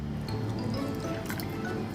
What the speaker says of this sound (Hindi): अब मैं इसमें भी थोड़ा पानी डालूंगी।